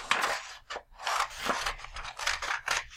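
Scissors cutting the excess white margin off paper pages for a notebook, heard up close as a string of crisp snipping and slicing strokes in an uneven rhythm, with no voices.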